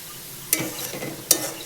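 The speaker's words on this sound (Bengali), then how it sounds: "গ্যাসের ফ্লেম হাই রেখে দেখো এরকম লাল লাল করে ভেজে নেব।" Sliced onions for biryani fry crisp over a high gas flame, giving a steady close sizzle with two sharp scraping stirs about a second apart.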